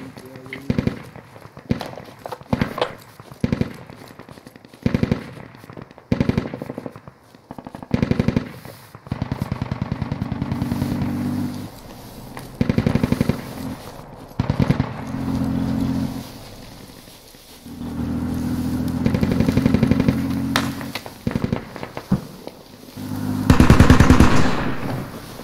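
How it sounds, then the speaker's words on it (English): Video game gunfire crackles in bursts of rapid automatic shots and scattered single cracks, some sounding like rounds zipping overhead, with quiet gaps between volleys and brief footsteps. "I hear lots of shots zipping overhead"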